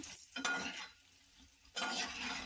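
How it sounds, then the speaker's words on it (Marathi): Potatoes being stirred and mixed with turmeric, red chili and garam masala in a pan, soft scraping and faint sizzling in two bursts separated by a quiet gap. "थोडीशी हळद थोडीशी लाल मिरची मसाला आपण असं मिक्स करून घेऊया"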